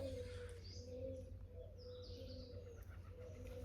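Parrots calling outdoors near an old house, several short chirps and squawks repeating over a steady low background rumble, fairly faint and distant.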